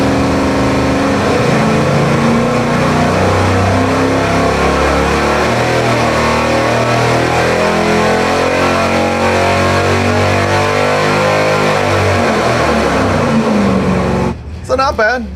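A V8 engine with a NOS Sniper nitrous kit, jetted at 56 nitrous and 47 fuel, runs on a dyno at full power with a loud, sustained, rising roar that cuts off sharply near the end.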